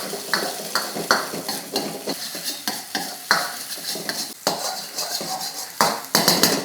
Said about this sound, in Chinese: 这个鸡蛋炒散了